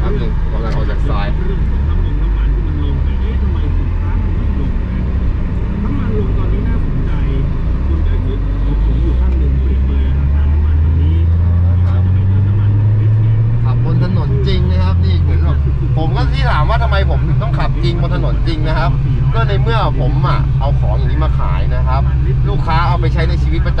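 A BMW E36 with the M43 engine accelerating hard on a road, its engine rising steadily in pitch through a gear, loud and close from inside the car, with someone talking over it.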